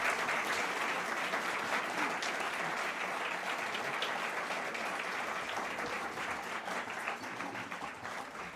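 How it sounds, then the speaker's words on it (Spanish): An audience applauds to welcome a guest speaker at a public talk in Antofagasta, with dense, continuous clapping that stays full and even for several seconds before thinning slightly near the end. "Un fuerte aplauso para don Gabriel Salazar para que nos pueda acompañar."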